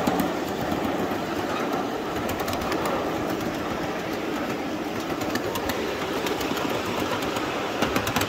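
Riding a live steam miniature train at Ridge Live Steamers across an old wooden trestle, with a steady rumble and a continuous clickety-clack of wheels on rail and faint birdsong in the background.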